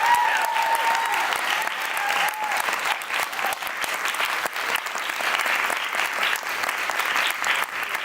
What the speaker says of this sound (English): Please join me in another round of applause for our amazing talented artists.